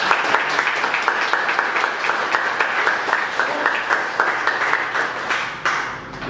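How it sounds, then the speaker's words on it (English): An audience at a 1 Million Cups event in Dallas gives a steady round of applause to welcome a speaker to the stage, many hands clapping continuously for several seconds before it starts to fade. "give a round of applause as we welcome Samuel to the stage"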